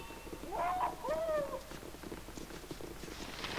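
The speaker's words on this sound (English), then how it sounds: "There's a cat." A cat in the video game Baldur's Gate 2 gives two drawn-out, rising-and-falling meows close by, followed by a low, quieter ambient background.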